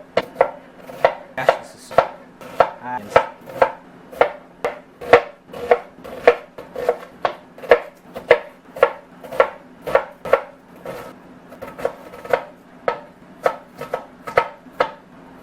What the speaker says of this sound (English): And then cut it vertically.